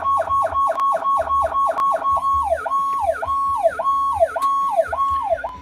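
An electronic siren from a refurbished Powercall Plus 100-watt siren box whoops in fast repeating rising sweeps, then shifts to its slower second wailing tone, loud and close with no voices.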